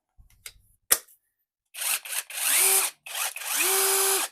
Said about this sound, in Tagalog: dito naman sa impact driver natin